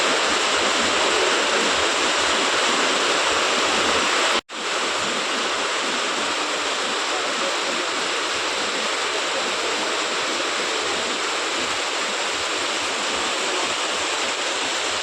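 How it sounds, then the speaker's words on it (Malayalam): Heavy rain roars in a dense, unbroken downpour, with one brief cut in the sound before the steady rush continues. "ഭയങ്കര മഴ"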